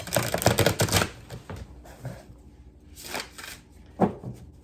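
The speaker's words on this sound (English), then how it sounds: "let's see about riffling" Large, chunky tarot cards riffle shuffled by hand, with a dense burst of flicking card sounds at the start and then shorter riffles and light handling noises after a pause.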